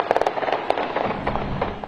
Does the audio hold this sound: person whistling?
no